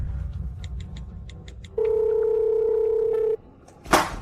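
Telephone call tone: a few quick dialing beeps, then one steady held tone lasting over a second, followed by a brief sharp noise.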